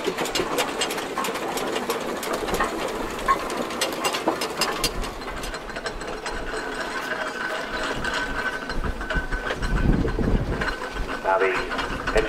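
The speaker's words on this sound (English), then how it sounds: "Victoria is known as a general purpose steam engine, just going past the country box" Steam traction engine Victoria, a general purpose engine, rolls past at the Ackworth steam rally with continuous mechanical clatter and rhythmic chuffing, loud and close throughout, while people talk in the background.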